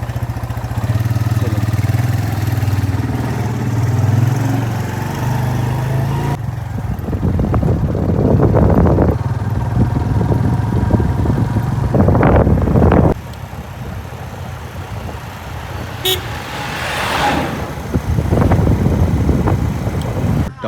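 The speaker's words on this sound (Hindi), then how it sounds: "बाइक निकाल ली है और अब चलाएंगे बाइक पर" Motorcycle engine running on a ride along a road to town, a steady low drone with wind buffeting the microphone, swelling in a few rougher bursts, no talk over it.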